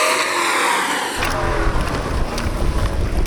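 Toyota Land Cruiser with its differential locked launches off-road in a drag race against a Range Rover, a loud broadband engine roar rising abruptly after a second and staying strong and close to the end.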